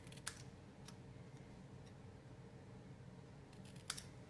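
Scissors make a few quiet, crisp snips as they angle-cut paper for a handmade greeting card. The cuts are isolated and spaced apart over a faint, hushed room background.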